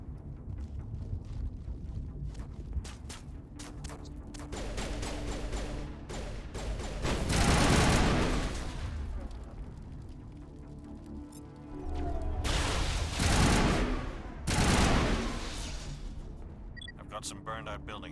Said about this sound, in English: I'm gonna have to turn down the volume on sound effects, because those gunshots were louder than I expected.